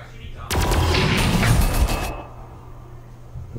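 Rapid bursts of gunfire from units in the Warhammer 40,000 Armageddon video game rattle loudly for about a second and a half, then fall away to a faint background.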